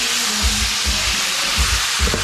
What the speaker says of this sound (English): So I'm going to put this to fry.